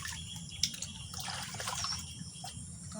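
Water trickles and drips while washed banana flower is rinsed, a soft, close splashing with one small splash near the start.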